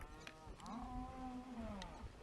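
A cow being moved on horseback lets out a single drawn-out, low moo close by, rising then sagging in pitch, with faint outdoor rustling around it.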